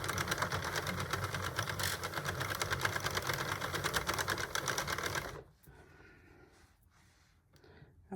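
A Sentro 48 knitting machine stitching a multicoloured denim and silver scarf whirs in a steady, dense mechanical rattle for about five seconds, then stops abruptly, leaving faint quiet handling noises.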